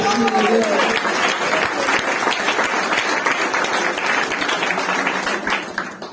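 A church congregation applauds in a sustained, dense burst of clapping that fills the hall while a voice keeps talking over it.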